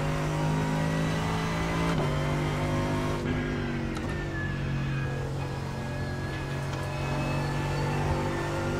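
A race car engine in the iRacing simulator at Spa holds a loud, steady high drone with gear-change steps, continuous and close throughout.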